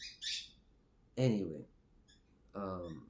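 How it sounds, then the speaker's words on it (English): A pet bird gives a couple of short, sharp squawks close by at the very start, then a person talks while the room stays otherwise quiet. "If you hear the bird in the background,"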